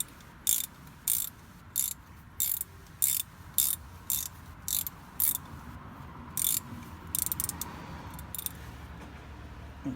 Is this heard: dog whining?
no